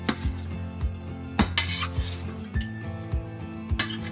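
Eggplant being mixed with meat and oyster sauce in a pan, a utensil knocking and scraping against the metal in regular clanks about every half second over a steady low hum.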